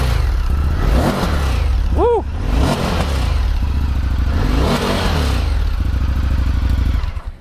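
Revving engine of an Indian FTR S motorcycle fitted with an Akrapovic exhaust, close and loud, rising and falling in several throttle blips under a steady idle, with a person's exclamation and voices over it.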